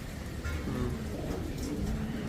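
Pigeons cooing in a backyard loft during heavy rain, low soft coos repeating steadily against a constant background wash of rain noise.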